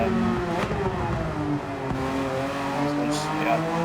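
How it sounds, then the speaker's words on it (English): A Porsche race car engine in a racing game drones steadily at high revs, its tone shifting slightly as it is pushed hard, continuous and prominent alongside a speaking voice. "Me really pushing this Porsche to the limit"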